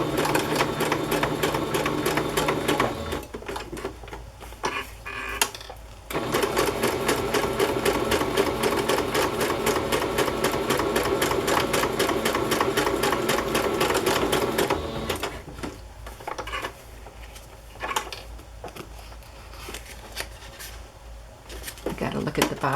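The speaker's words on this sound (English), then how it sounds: "I'm using a straight stitch with a longer stitch. Not a basting stitch, but just a little bit longer, like I always do when I sew on paper." Sewing machine running a lengthened straight stitch through paper for a wallpaper collage, a steady close mechanical whir with short pauses around five and fifteen seconds, then intermittent stitching bursts.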